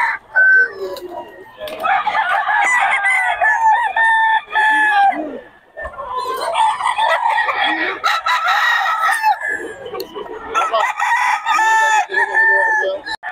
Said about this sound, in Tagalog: Black hen eh.